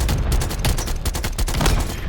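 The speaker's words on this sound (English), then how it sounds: "I kind of just sniped this guy from really far away with an AR" Assault rifle fire in Black Ops Cold War, a dense, continuous burst of rapid shots that stays loud and steady throughout, with no talking.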